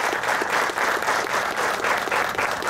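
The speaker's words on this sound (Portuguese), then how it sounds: "pido un fuerte aplauso de todos los presentes" Dense, steady applause from an audience at the 2018 opening of the Naranjal industrial condominium park, filling the whole stretch at even loudness with no voices over it.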